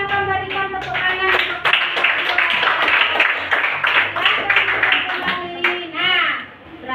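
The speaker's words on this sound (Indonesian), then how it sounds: "silakan berikan tepuk tangan" Students in a classroom give a round of applause, a dense burst of clapping mixed with children's voices, loud and close before fading at the end.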